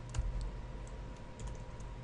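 Keys clack on a computer keyboard while someone enters code, a quiet, close series of irregular taps with no voices.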